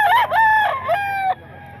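A rooster at the Grotto market crows loudly and close, one full cock-a-doodle-doo in several rising and falling segments, ending abruptly with faint background bustle.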